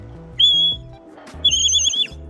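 A pet goldfinch at home gives two clear, high whistled notes, the second longer and wavering, close by over a quiet room with faint low background tones.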